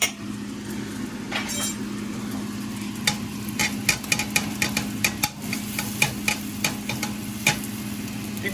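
Onion and breakfast sausage fry in a pan under a steady sizzle and low hum, with a run of quick clinking, scraping stirs growing busier through the second half.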